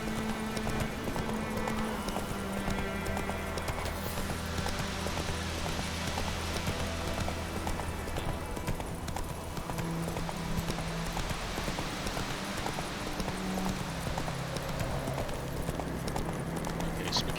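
Steady rhythmic hoofbeats of a galloping horse in The Witcher 3: Wild Hunt continue throughout, with a constant dense background of game sound.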